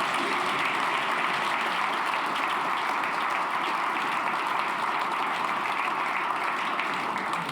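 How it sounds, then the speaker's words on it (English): Sustained audience applause from a crowd of the public gathered in central London, thick and steady clapping holding at one level with no voices on top. "that applause comes from this non-representative sample of the British public gathered in central London"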